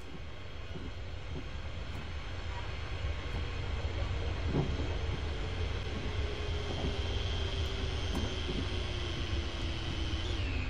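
A train in the Train Simulator 2015 game on the Glasgow Airport Rail Link rumbles steadily with a continuous engine drone and a slowly falling whine, plus faint periodic clicks, with no talking over it.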